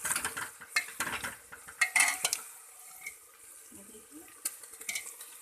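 Onions are fried and stirred in a pan for dhaba-style saag mutton, with clattering utensil strokes and scrapes in bursts over a faint sizzle, growing quieter toward the end.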